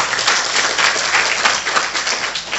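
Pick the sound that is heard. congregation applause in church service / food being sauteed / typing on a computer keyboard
congregation applause in church service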